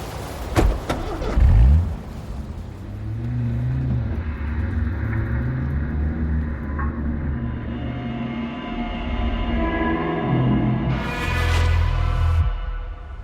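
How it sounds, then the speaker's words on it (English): A car engine starts with a thud and rumble, then revs and pulls away, its drone rising and falling steadily for several seconds as a dramatized getaway effect with no talking. "In the flashing confusion, I slip out to my car and speed away."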